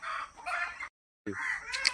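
A farm rooster perched high on a house roof crows loudly and close, the call cut by a brief silent gap before it resumes strongly.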